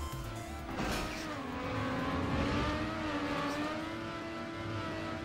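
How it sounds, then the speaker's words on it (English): A race car engine in the Trackmania video game drones steadily at a distance, a continuous hum with a rising whine and a brief burst near the start, no voices. "You'll just hear an engine in the distance."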